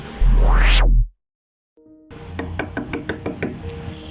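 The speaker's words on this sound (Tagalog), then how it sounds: "bigla na lamang may kumatok sa aking kwarto" A burst of knocking on a bedroom door, a quick run of hard raps in an uneven rhythm, close and clear, coming right after a short swooping effect and a moment of silence.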